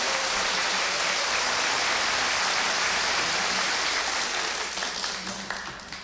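Audience applause on a Brazilian viola music programme, a steady, dense wash of clapping that fills the room and tapers off slightly near the end.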